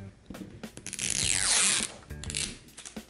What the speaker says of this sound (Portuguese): Pela primeira vez você abriu um zíper.